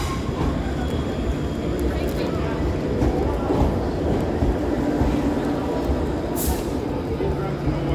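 A passenger train moves through Coventry station with a steady, loud rolling rumble that fills the whole stretch. A brief high hiss rises near the end.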